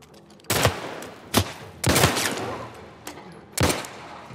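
Several sharp gunshots ring out in The Last of Us Left Behind, four or five loud cracks at irregular intervals over a few seconds, fairly close with short echoing tails.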